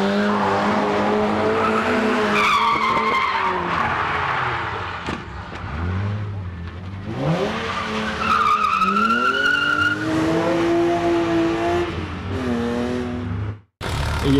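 A Nissan 350Z drifting at a drift event, its engine revving up and down in repeated surges while the tires squeal and skid loudly. The sound is close and continuous, with a brief cut near the end.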